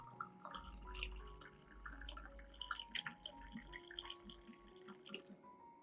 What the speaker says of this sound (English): Add 500 milliliters of clean room temperature water to dilute the solution.